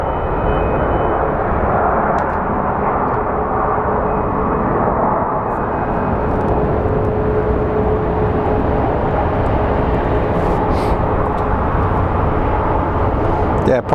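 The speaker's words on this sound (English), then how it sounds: "Pretty smooth touchdown for the Alaska Airlines." An Alaska Airlines jet rolls out after touchdown at Phoenix Sky Harbor International Airport, its engines giving a loud, broad, continuous roar that holds steady through the whole span while people talk over it.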